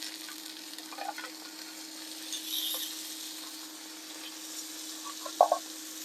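Trout fillets in a pan with chermoula spooned over them keep sizzling after the heat is switched off. The hiss is faint and steady, with a few soft spoon and pan clinks.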